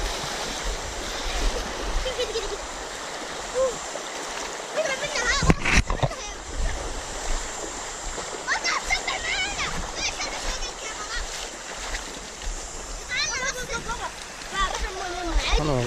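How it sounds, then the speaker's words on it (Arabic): Strong flood water rushing through a desert valley after heavy rain, a steady broadband roar with splashing, under excited voices talking and calling out throughout. "والله جاء سيل قوي لكنه خف."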